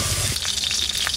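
Fenugreek greens fry in a pan, a dense close sizzle broken by quick scraping stir strokes in an uneven rhythm, with no one speaking.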